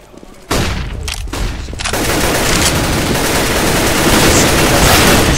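Rapid bursts of gunfire from a Counter-Strike: Global Offensive grand final match, starting abruptly after a brief quiet moment and continuing as loud, dense, sustained shooting to the end.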